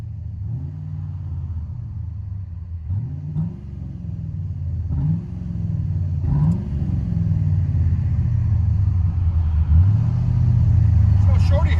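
A 2001 GMC Sierra with a 6.0L V8, shorty headers, cold air intake and true dual Flowmaster Super 10 exhaust rumbles from inside the cab, a deep idle rising through repeated revs and building louder toward the end, with someone talking over it.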